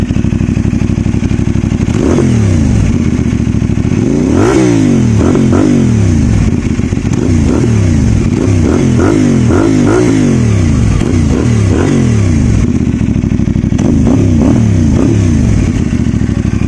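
A CFMOTO 450SR motorcycle fitted with a Yoshimura R77 slip-on exhaust is revved repeatedly from idle, loud close engine bursts rising and falling in quick succession over a steady idle.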